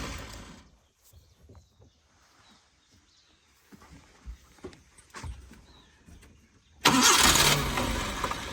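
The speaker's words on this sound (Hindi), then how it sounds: "फिर से क्रैंकी कर देते हैं।" A Maruti Eeco with an engine starting problem cranks repeatedly in faint, uneven bursts without catching, then a loud sustained roar of engine noise fills the last couple of seconds.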